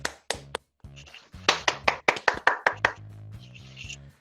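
Sharp, sparse hand claps and taps in a podcast studio, a few isolated hits and then a quick run of evenly spaced claps over soft musical tones.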